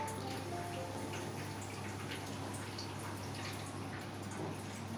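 Water poured into a pan of fish curry cooking on the stove, a soft steady trickling and splashing beneath a constant low hum from the cooking setting.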